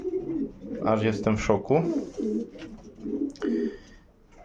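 Pigeons coo at a home pigeon loft after yearlings return from a hot, windy race, soft repeated cooing and bird calls close by under a man's speech.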